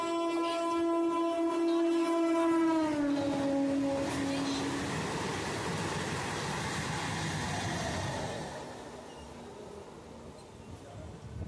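A Jaleswar MEMU local train approaches, sounding a long sustained horn that drops in pitch, then rumbles past as broadband rolling noise that fades toward the end.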